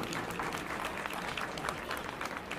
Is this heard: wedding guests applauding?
yes